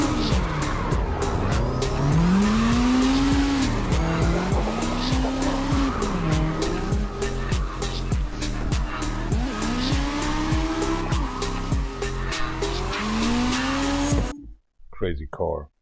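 Racing game engine note from CarX rising and falling through repeated gear shifts, with tire squeal and skidding under continuous loud revving before cutting out near the end.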